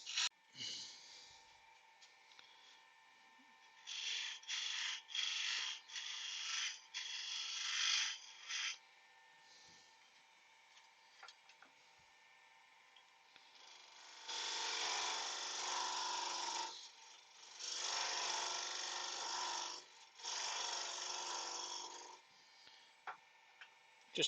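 Wood gouge cutting a turned wooden pear on a lathe, a raspy scraping that comes in several sustained bursts of a few seconds each, close and moderately loud, with quieter gaps between.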